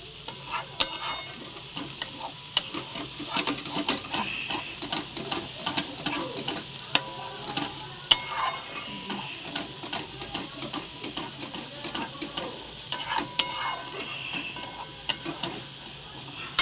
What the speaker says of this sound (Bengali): আরও কষবো, তারপর আলু দিয়ে আবার কষবো।